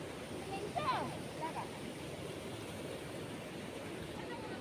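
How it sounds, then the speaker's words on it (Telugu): Waste water gushes out of pipes at the Sileru hydroelectric plant, a steady broadband roar of rushing water, moderately distant and unchanging throughout. "ఇది చూడండి వాటర్ ఎలా బయటకు వచ్చేస్తున్నాయో"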